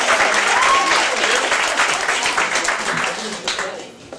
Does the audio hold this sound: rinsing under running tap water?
no